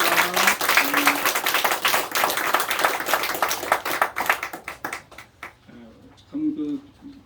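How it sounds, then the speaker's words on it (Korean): A church congregation at a Sunday morning service claps in celebration: a dense burst of applause that thins into scattered claps and fades out, with a few voices heard at the end. "우리 축하의 박수 한번"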